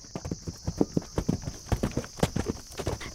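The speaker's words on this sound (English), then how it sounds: "it sounds like a horse in the distance" A horse's hooves clip-clop at a steady walking rhythm, a quick run of evenly spaced knocks over a constant thin background hiss, at a moderate distance.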